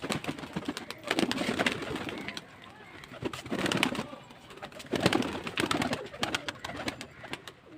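Pigeons at a pigeon sale in Beldanga cooing in repeated soft, throaty bursts nearby, with background rustling and faint voices.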